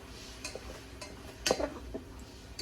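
A utensil stirs melting butter in a saucepan, making quiet, intermittent clinks and scrapes against the pan, with one louder scrape in the middle and no talking.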